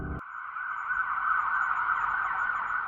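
A siren wails steadily outside a house at night, a sustained emergency-vehicle tone holding for several seconds, moderately loud and alone after a brief noise at the start.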